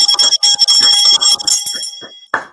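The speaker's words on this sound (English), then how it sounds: "We ring the bell." A bell rings loudly and rapidly as a celebration of passing the SIE exam, the peals running together before a final louder strike that rings out.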